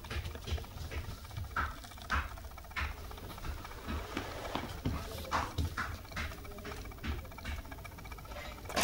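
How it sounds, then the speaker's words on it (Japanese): Distant carpentry tapping from a man doing building work comes through as scattered, faint knocks and clicks, irregular in rhythm, under strong, steady wind noise. "おじさん大工さんしてる。"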